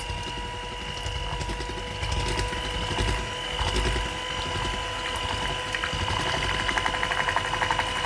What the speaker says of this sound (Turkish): Şimdi bunu kenara alacağım ve içerisine mikserimle çiğ kremamı çırpacağım.